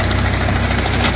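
A tractor-driven fodder chopping machine runs with a steady, loud low engine drone and a fast rhythmic thump, close by and continuous.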